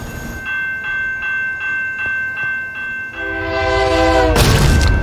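In Minecraft, repeated rhythmic bell-like tones, then a rising rumble as a train approaches and a horn blares, ending in a loud roaring rush.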